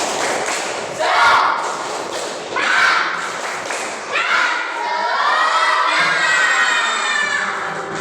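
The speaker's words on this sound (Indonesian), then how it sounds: "Tepuk semangat." A school class of children doing a rhythmic spirit clap in a classroom, loud bursts of clapping in a patterned beat mixed with shouted chanting voices.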